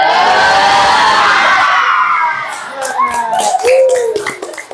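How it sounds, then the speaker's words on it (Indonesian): A group of children in a classroom performs the rhythmic tepuk semangat clapping chant, loud chanted voices giving way to sharp, patterned claps and shouts near the end. "Untuk mengakhiri kita tepuk semangat dulu"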